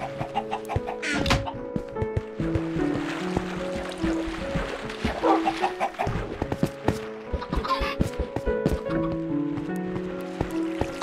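Chickens clucking in the video game Minecraft, a string of short, bright, tonal clucks repeating at close range, with faint background game sounds.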